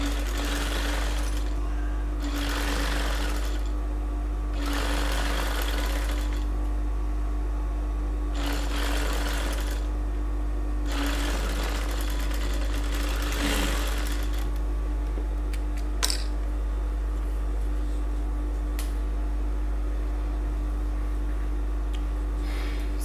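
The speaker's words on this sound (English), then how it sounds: "Then I'll sew with 1 inch seam allowance." A sewing machine stitches a bodice seam with a one-inch seam allowance in several separate bursts of rapid whirring, each a few seconds long with pauses between, over a constant low hum, with no talking.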